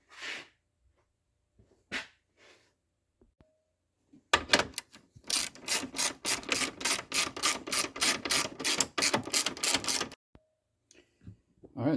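Ratchet wrench tightening a bolt during coolant line work on a 2006–2013 BMW X5, rapid close clicking in repeated bursts with short pauses and a few scattered clunks, no talking.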